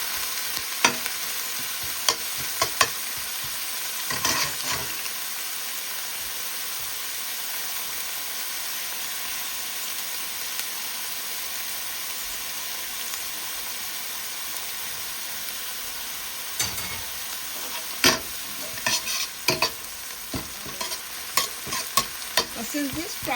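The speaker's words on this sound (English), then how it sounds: "You want to fry this a little." Ingredients frying in a pan for a rice and bean dish, a steady bright sizzle and hiss throughout with bursts of scraping stirring strokes near the start and again toward the end, close and without talk.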